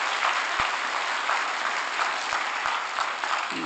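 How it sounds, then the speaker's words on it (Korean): An audience at a civil-servant training institute lecture applauds in a dense, steady round of clapping that holds at an even level throughout, with no speech over it. "이게 좋은 말 같으면 박수 치세요."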